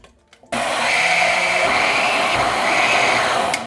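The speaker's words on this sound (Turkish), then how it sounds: "Kablosuz blenderımı çalıştırıyorum." A cordless blender switches on abruptly and runs with a steady, loud whirring motor hum, preparing a sauce for an airfryer fish recipe, with no talking over it.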